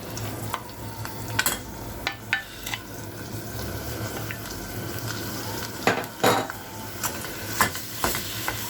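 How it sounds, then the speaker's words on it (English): Minced meat sizzles steadily in a hot pan while a utensil scrapes and clinks against the metal in irregular strokes, close by. "We are going to stir it for everything to mix very well."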